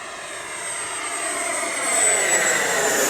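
An FMS Scorpion 90 EDF RC jet converted to 8S power screams past at full throttle, a loud continuous ducted-fan roar and whine that swells slightly as it passes close.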